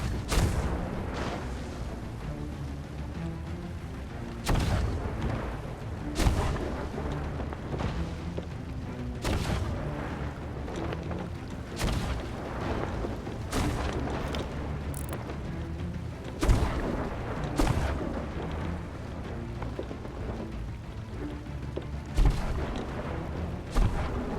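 Repeated heavy cannon booms from a pirate ship's triple guns in Sea of Thieves, a series of loud blasts roughly every one to three seconds over a continuous rumbling battle din.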